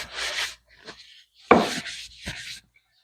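A rag wipes finish onto teak chair wood in a few short, scratchy rubbing strokes, close and distinct, separated by brief pauses of silence.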